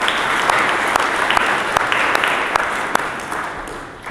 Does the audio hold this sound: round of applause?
yes